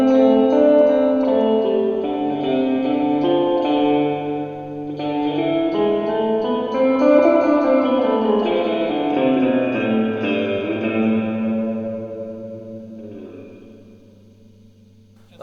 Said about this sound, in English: if you turn the reverb all the way up, you turn the volume all the way down